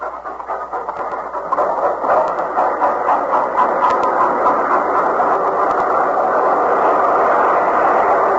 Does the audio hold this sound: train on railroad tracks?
yes